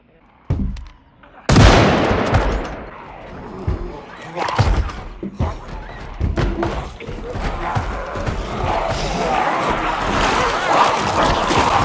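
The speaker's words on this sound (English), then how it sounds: "the sound of a gunshot carries a far greater distance" Gunfire in the zombie survival video game Project Zomboid: sharp, loud, booming shots at irregular intervals, each followed by a reverberant tail, with a heavy blast early on and a noisy, churning background building afterward.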